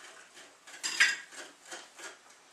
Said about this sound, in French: Et nous mélangeons.